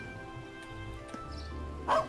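A dog barks once in the Trails of Cold Steel video game, a short, fairly loud yip near the end over steady background music.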